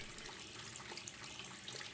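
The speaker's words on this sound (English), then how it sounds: "I wash my hands vigorously and turn off the water." A bathroom tap runs steadily while hands are washed under it, a faint, continuous watery hiss with no voices.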